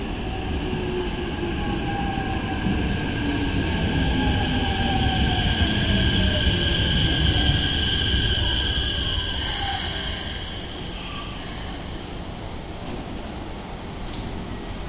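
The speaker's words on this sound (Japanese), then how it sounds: "まもなく下り特急が到着いたします。" A Keikyu 1000 series limited express train pulls into a station, a loud continuous rumble of wheels on rails with high metallic squeals and humming motor tones that ease off as it slows, with no talk.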